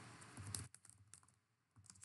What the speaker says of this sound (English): if I begin a new search by typing in the phrase